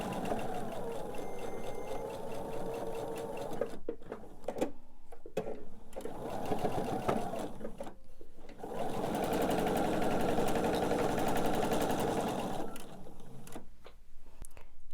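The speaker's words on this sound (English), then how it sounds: "I'm going to line everything up, and it looks like these 2 are more on point size wise. And sew down this seam." A sewing machine stitches a quilt block seam in steady, close whirring runs with brief pauses between them, loud and continuous while the needle drives.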